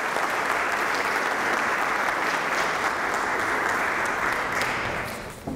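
Loud, sustained applause from an audience at a press conference celebration, a thick wash of many hands clapping at steady volume, easing off slightly at the very end.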